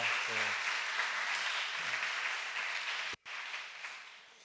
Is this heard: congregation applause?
yes